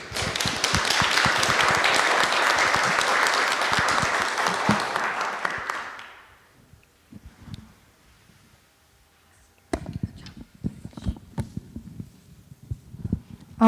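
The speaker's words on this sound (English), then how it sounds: "Let's give another big round of applause to everyone on panel 2 that presented today." Loud audience applause for a panel at an oral history event, a dense burst of clapping lasting about six seconds before fading into quiet room noise and a few stray taps.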